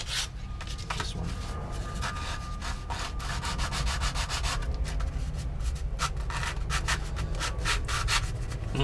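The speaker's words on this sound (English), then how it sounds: "We'll sand with the grain along the length of the part." A wooden model part is sanded flush by hand with the grain, a long stretch of quick, rhythmic scratchy strokes up close with no talking.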